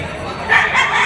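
A gamefowl rooster, a yellow-legged straight-comb sweater, crows at a livestock market. The call is one short, fairly loud burst rising out of a steady background din.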